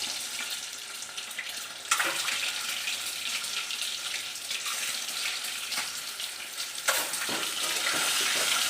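Eggs rubbed with salt and turmeric fry in hot oil, a constant crackling sizzle that flares up sharply twice as they hit the pan, close and without speech.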